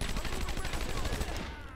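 Rapid gunfire from enemy guards in the Batman Arkham Asylum video game, a dense, loud, continuous burst of shots with no gaps.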